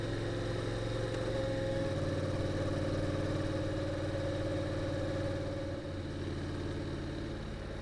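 A Honda DCT motorcycle chugs at low speed in third gear around a corner, a steady low engine drone with a slight pitch drop midway, heard from the rider's position over faint wind.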